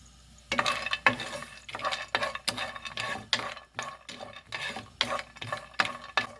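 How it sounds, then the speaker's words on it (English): Cashews roast in ghee in a pan while being stirred briskly, a rapid series of loud rattling, scraping strokes over a light sizzle, close up and without talk. "Roast cashews first."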